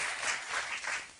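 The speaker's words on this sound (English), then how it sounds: "Thank you for the applause, even though I got it wrong." Studio audience on a TV talk show applauds steadily for just over a second, a dense, even wash of clapping with no voices over it.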